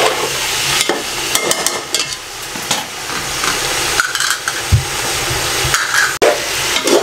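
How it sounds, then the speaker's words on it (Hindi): Chicken and onions with cardamom fry for Kabuli pulao, a loud, close sizzle under repeated scraping stirs and clinks of a utensil against the pot, with irregular knocks throughout. "मैं इसको अच्छे तरीके से फिर भून लूँ 3 से 4 मिनट"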